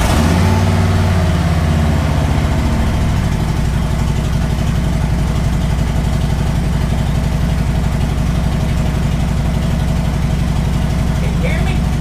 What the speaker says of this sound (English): The motorcycle's real loud